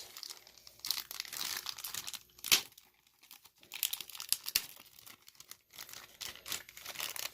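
Plastic crinkling and crackling in irregular bursts as small Heroclix figure pieces are popped out of a Guardians of the Galaxy holiday advent calendar's packaging, close and moderately quiet, with a sharp tearing snap midway and no talk.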